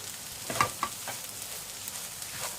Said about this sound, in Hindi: इसको अच्छे से मिक्स करते हैं।